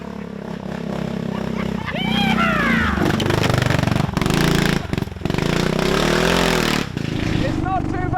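A Royal Enfield Meteor motorcycle fitted with a sidecar rides along with a steady, close engine drone, under people talking and laughing.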